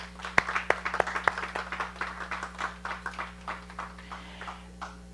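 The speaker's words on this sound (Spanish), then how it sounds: "vamos a dar un aplauso a los Estados Unidos en su independencia" Applause for US Independence Day: a crowd claps in a dense, uneven patter for several seconds, a few sharper near claps on top, tapering off at the end over a steady low hum.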